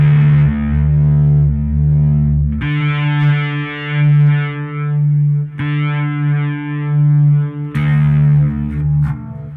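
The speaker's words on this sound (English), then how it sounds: "Kill is the one that has a phaser and distortion stacked on top of each other." Electric guitar run through a phaser stacked with distortion pedals, playing loud, thick sustained chords with a sweeping, swirling tone, changing chord three times across the passage, no talking.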